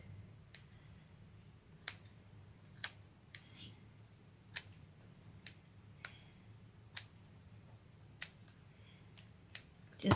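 Scissors trimming paper around the edge of a small Dollar Tree dollhouse being made into a haunted house, sharp isolated snips at an irregular pace against a quiet room background.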